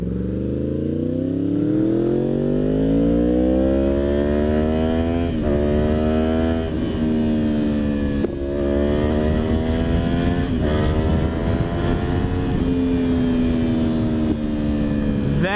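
A 2016 Yamaha R1 with an SC Project exhaust is revved up in long rising pulls. The loud, close exhaust note climbs in pitch, breaks briefly and climbs again, with no voices over it.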